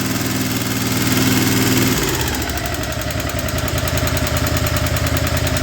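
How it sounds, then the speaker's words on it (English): The small engine of a Ferris ProCut 61 mower idles steadily up close, a loud even mid-pitched rumble with a slight shift in tone partway through. "That's a good running little engine."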